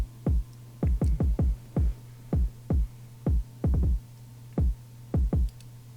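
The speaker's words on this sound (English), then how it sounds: "The kick sounds like this." Kick drum from a beat, a punchy low thump repeated in an uneven pattern of about fifteen hits over a steady low hum, close and isolated.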